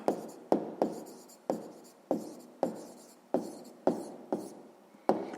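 A pen writes on paper during a sixth-grade maths exercise, about ten short scratchy strokes in a steady rhythm, each starting with a sharp tap and fading, close and alone with no talk.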